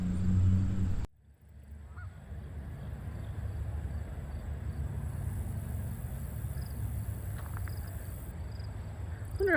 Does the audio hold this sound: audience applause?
no